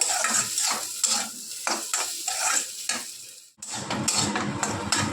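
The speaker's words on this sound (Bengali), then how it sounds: "এটা আমরা খুব ভালো সুন্দর করে ভাজা ভাজা করে নিচ্ছি, দেখতে পাচ্ছ" Banana stem and rice fry in a pan with vigorous stirring: repeated metal spatula scrapes and clacks over a continuous sizzle, broken by one brief pause before the stirring resumes.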